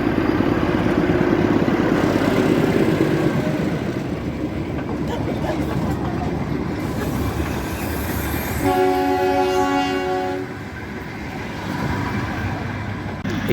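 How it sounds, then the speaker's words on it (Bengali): The Darjeeling Himalayan Railway toy train rumbles past with a steady clatter of wheels and carriages, then gives a loud, clear horn blast midway before the rolling noise continues. "এইটা হলো আরেকটা টয় ট্রেন।"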